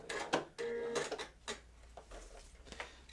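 A sewing machine back-stitching through plastic, a few short faint mechanical bursts and clicks with a brief hum, separated by pauses.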